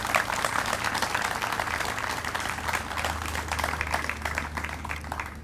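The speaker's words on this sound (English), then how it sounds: "Let's have a nice round of applause for the Collier County Sheriff's Color Guard." An outdoor crowd at the 2018 Brotherhood Ride ceremony in Southwest Florida applauds the Collier County Sheriff's Color Guard, a steady wash of many clapping hands with a low engine-like hum underneath.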